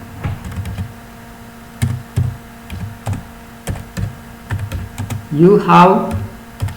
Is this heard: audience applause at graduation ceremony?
no